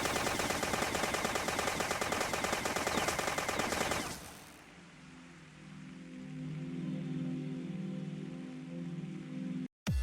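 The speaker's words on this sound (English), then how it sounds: "We just back up and shoot at them a few times." Rapid gunfire in the video game Dead Bits, a dense, fast crackling stream of shots for about four seconds, then cutting to quieter game ambience with a low hum.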